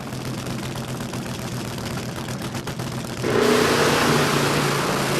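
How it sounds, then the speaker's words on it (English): Porsche 944 drag race car at a drag strip, running rough, heard as a continuous engine drone. The sound grows louder and brighter partway through as the car passes. "So that car didn't sound very happy at all, didn't look very happy at all."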